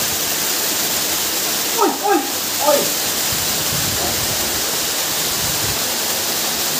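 A waterfall roars with a loud, constant rushing wash throughout, and a brief shout and a few spoken sounds rise above it near the middle.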